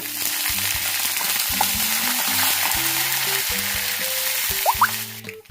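Curry leaves, dried red chillies, garlic and tempering seeds sizzle in hot oil in a small pan, a close, continuous frying hiss with steady crackle, and a faint tonal hum in the background.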